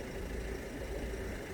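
A car engine idles in the rain, a steady low rumble with constant texture, moderately loud and unbroken throughout, with no voices.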